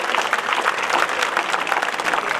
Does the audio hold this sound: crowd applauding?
yes